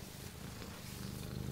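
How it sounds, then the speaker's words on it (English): A cat purrs close up in a steady, low, rhythmic rumble, soft and continuous with no other sounds. "we do have the cat here"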